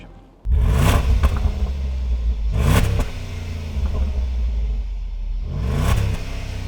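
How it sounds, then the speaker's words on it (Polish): The V8 engine of a Range Rover Sport bursts to life through its stock exhaust and is revved hard three times in deep, rumbling swells, settling to a throaty idle between blips, close and loud. "to będzie sama tylko i wyłącznie poezja z seryjnego wydechu oraz świetnego silnika V8"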